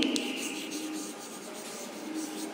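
Faint scratchy strokes of writing on a board come in short, uneven bursts of rubbing and scraping, with a quiet room hum underneath.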